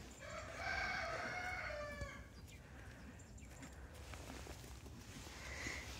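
A rooster crows loudly and nearby early on, followed by chickens clucking softly in the background, in a coop after a predator attack.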